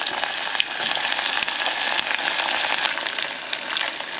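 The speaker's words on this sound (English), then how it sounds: "Okay, we will fry it now. I think it's hot already." Arancini rice balls fry in hot oil with a steady, dense sizzle that holds loud and close throughout, crackling evenly with occasional sharper pops.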